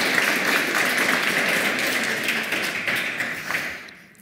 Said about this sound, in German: vielleicht erstmal dein Applaus